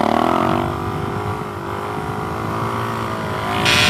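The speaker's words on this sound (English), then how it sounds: "Let's see if we can get a good wheelie here." Suzuki DRZ400SM big bore stroker motorcycle revving hard for a wheelie, a loud, close, sustained engine roar with rising pitch and a brief surge at the end.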